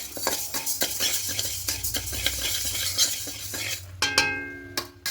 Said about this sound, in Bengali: এখানে প্রথমে সোনা মুগ ডালটাকে দিয়ে দেব দিয়ে হালকা নাড়াচাড়া করে একটু ভেজে নেব